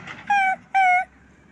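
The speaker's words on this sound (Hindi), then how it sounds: "ये कुत्ते हैं, और देखिए ये कुत्ते इनके पास आना चाहते हैं" Two short, high-pitched dog whimpers in quick succession, close by, with faint background noise between them.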